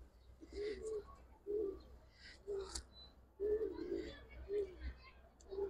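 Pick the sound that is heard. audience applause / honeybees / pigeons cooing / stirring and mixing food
pigeons cooing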